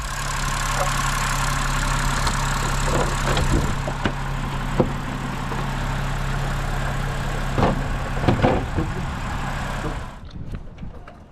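A BMW engine idles after a Valvetronic servo motor replacement, with its ignition coils removed, a close, steady, even drone with occasional clanks from nearby work before it shuts off near the end.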